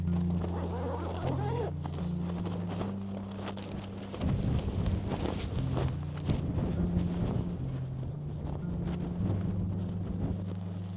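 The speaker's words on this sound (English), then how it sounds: "Bit windy outside, as you can hear" Gusty wind buffets and flaps against tent fabric close by on Binsey Fell, with rustling and a low droning rumble underneath, no talking.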